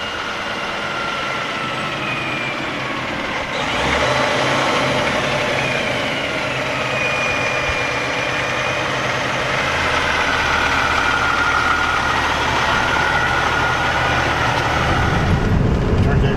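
A logging truck's engine runs near a swamp, a loud, steady, rough idle with a slight rise partway through and a brief shift near the end.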